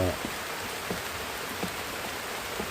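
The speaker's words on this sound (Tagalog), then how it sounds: "sobrang lakas ng ulan" Heavy rain falling at night, a dense, steady hiss of downpour with scattered drop impacts, continuous and enveloping.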